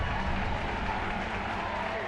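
Crowd applause in old archive footage of a Soviet rally with Stalin present, a muffled, dense wash of clapping, low-fidelity and steady, with faint voices blended in.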